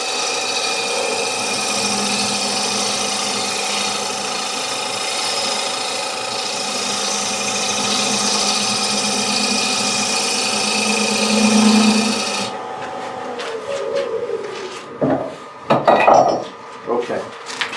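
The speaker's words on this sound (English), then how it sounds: "I'm going to rough up that surface, and I'm going to do that with a scraper. So, let's fire up the lathe." A wood lathe spins a walnut bowl as a scraper works its surface, a steady whirring hum with scraping texture, then the motor winds down into clinks and knocks near the end.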